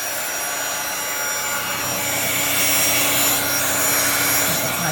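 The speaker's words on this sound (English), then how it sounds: "now I'm going to blast it with my heat gun" A heat gun blows hot air over shrink wrap, a steady, loud broadband whoosh like a small blower that holds constant from start to finish with no talk over it.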